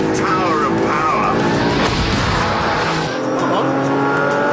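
An Audi R8 with a V8 engine drives at speed, its loud engine roaring steadily throughout with a brief tire squeal, while a voice talks over it.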